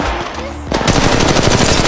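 Rapid automatic machine gun fire in the mobile shooter Apex Legends Mobile, a loud, dense burst of shots following a brief quieter moment, close and continuous to the end.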